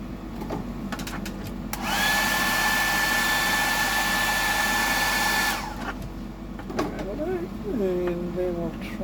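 A hair dryer blows on a freshly inked Green Flash pattern on a 100mm Sammy lure, a loud steady whir with a whining tone lasting about four seconds and then cutting off, with talk before and after.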